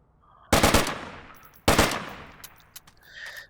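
Two bursts of full-auto fire from a 7.62 marksman rifle in a video game, close and loud, the second starting a little over a second after the first, followed by scattered clicks and small mechanical sounds.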